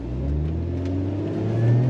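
A supercharged Lotus Emira sports car accelerates in second gear. The engine drone rises steadily and loudly from inside the cabin, heard alone for a couple of seconds.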